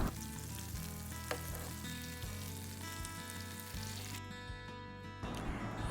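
Besan-stuffed bitter gourds fry in hot oil with a steady, close sizzle that holds for about six seconds, broken by light scrapes as a spoon turns them, over a faint tonal background.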